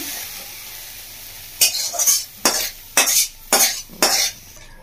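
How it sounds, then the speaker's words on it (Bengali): Vegetables being stirred into rice and lentils in a pot for fish khichuri: five loud, scraping mixing strokes in steady rhythm after a quiet opening, with no talking. "সবজিটা দিয়ে ভালো করে চাল আর ডালের সাথে মিশিয়ে দিচ্ছি"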